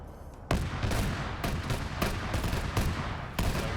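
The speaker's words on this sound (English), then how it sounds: "And it's firing its coax at it." A tank's coaxial machine gun fires in a PvP combat video game, with dense, loud sustained bursts punctuated by sharper cracks after a brief quiet start, and no voices.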